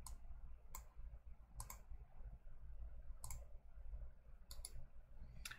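A computer mouse clicks six times at uneven intervals, with sharp, close, quiet clicks over a low steady hum.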